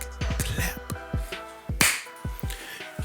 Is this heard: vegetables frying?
no